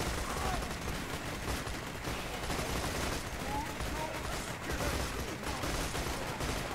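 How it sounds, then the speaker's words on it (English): A machine gun turret in Borderlands fires in dense, rapid bursts, loud and close, crackling almost continuously throughout with occasional faint voices beneath. "Oh wait, this is the machine gun one."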